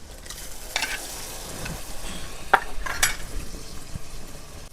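Masala with freshly grated tomato is stirred in a pot for dum aloo over a clay stove at an outdoor farm kitchen: repeated scraping spoon strokes and clinks over a soft, continuous sizzle, with no talking.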